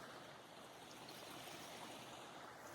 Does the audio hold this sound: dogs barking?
no